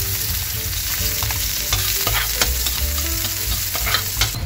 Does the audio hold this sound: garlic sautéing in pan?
yes